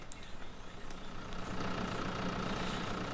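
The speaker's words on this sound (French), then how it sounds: "Je cherche le petit tracteur." Steady low rumble of a small tractor engine idling in a farming video game, continuous and even in loudness throughout, with no talk over it.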